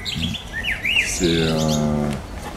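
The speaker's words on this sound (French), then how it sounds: "des oiseaux qui chantent" Birds sing and chirp on a plateau with tall trees at Les Malassis in Bagnolet, bright whistled phrases rising and falling over steady outdoor background, with a brief low murmur near the start.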